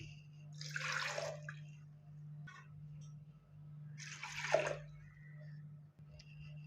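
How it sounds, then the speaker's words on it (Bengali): Two cups of water are poured for mint sherbet, producing two short, soft splashing pours a few seconds apart over a quiet steady hum. "এখন আমি এখানে দিয়ে দিচ্ছি 2 কাপ পরিমাণ পানি।"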